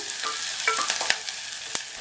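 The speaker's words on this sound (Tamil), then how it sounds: "இந்த வெங்காயம் நல்லா வதங்கட்டும்." Steady crackling sizzle of onions frying with curry leaves in a pan, with a few sharper pops and spatters scattered throughout.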